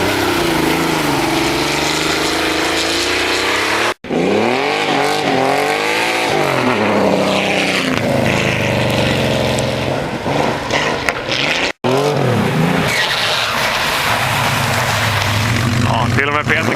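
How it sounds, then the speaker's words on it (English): Porsche 964 Carrera 2 RS replica drifting on snow, its engine revving and rising and falling in pitch close by, loud throughout with a brief cut or two, and speech-like sounds mixed in. "this little film clip here when we snow drifted it a couple of years ago"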